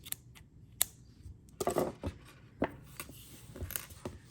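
Scissors trim crochet yarn in a few quiet, close snips and small handling sounds, faint and spread out with short pauses, with no one talking.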